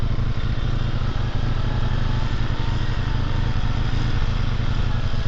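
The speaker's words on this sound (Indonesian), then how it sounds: "Pakai motor VR loh sampai atas." Honda Verza 150 motorcycle engine labouring steadily up a steep hill climb, a loud, continuous close-up drone with a rough low-end throb that holds constant throughout, with no talk over it.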